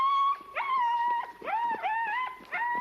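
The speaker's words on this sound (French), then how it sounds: "Entraînement en forêt avec chien impatient." Impatient sled dogs in a forest before a mushing training run whimper and whine in high, wavering cries, several overlapping in bursts, close and loud.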